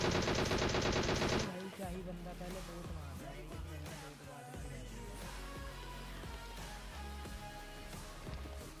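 Rapid automatic gunfire in PUBG Mobile while knocking down an enemy, a dense loud burst at first, then scattered shots and game noise continuing throughout.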